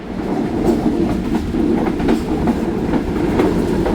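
Musapak Express passenger train running past Renala Khurd railway station, a loud continuous rumble with rhythmic clickety-clack of wheels on rail joints, close and steady throughout.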